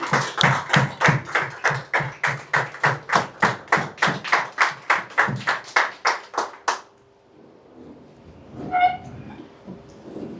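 A crowd claps in honour of a director at a Jaipur planning talk: about twenty loud, steady rhythmic claps in unison, then quiet with a faint voice-like sound near the end.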